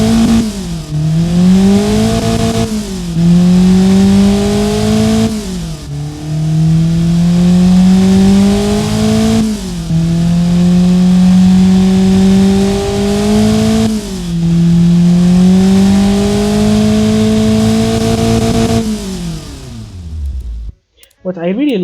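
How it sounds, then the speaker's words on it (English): Honda K24A1 inline-four engine in the Automation car-building game revs up repeatedly, each loud climbing sweep falling back before rising again in a steady cycle of about five pulls, then cutting off abruptly at the end. "So let's listen to the engine."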